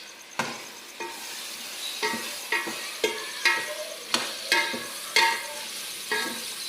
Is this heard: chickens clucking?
no